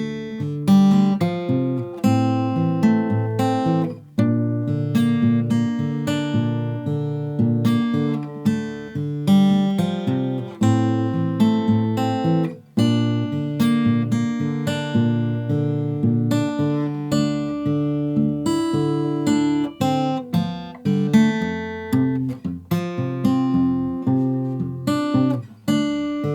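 Slow acoustic guitar verse of a song, with steady strummed and picked chords ringing clearly and close for the whole stretch, with no voices.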